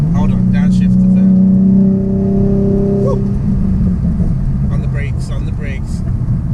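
A black Ford Mustang Transformers Edition's engine blips and revs through a downshift, a loud rising harmonic whine cresting about three seconds in before settling into a steady rumble with speech over the top.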